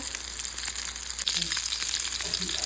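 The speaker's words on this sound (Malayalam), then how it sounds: "ഇത് ബ്രൗൺ ആവുന്നത് വരെ ഫ്രൈ ചെയ്ത് എടുക്കാം" Chicken roll samosas fry in hot oil until browned, giving a brief, close, constant sizzle and crackle with no voices.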